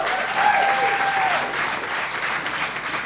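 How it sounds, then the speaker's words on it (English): Steady applause fills a cooking competition hall as the audience claps for the chefs after round one, a broad crowd sound with a brief tonal whine near the start and faint voices mixed in. "how about a round of applause for our chefs after round one?"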